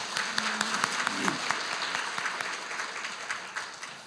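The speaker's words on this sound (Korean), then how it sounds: "다시 한번 큰 박수 부탁드립니다" Audience applause fills a hall at an academic conference opening ceremony, steady dense clapping of many hands at moderate distance, with a brief voice near the start.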